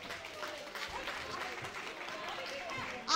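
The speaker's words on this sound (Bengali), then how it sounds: "প্রত্যেকের জন্য জোরে হাততালি।" Applause for participants at a 19th wedding anniversary celebration, a steady moderate patter of many hands clapping that carries through without a break, with a sharp louder burst at the very end.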